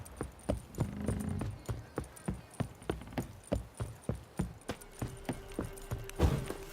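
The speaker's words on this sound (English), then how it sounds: "time to water the horses" In Witcher 3 a horse's hooves clip-clop in an even, regular rhythm of about a dozen clear hoofbeats, near and distinct, with a faint jingle of tack and no talking.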